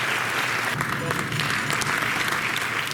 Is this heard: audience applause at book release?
yes